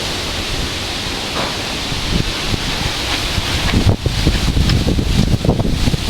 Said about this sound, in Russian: Такой сильный ветер обрушился на них.